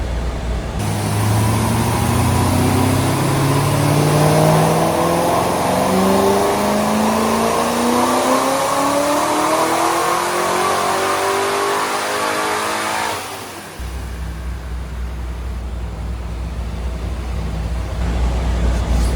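A Chevrolet Corvette C5 Z06 with a tuned engine, pulled from a storage locker and running for the first time in years, revs loudly close by, sweeping up and down repeatedly before settling into a rumbling idle near the end.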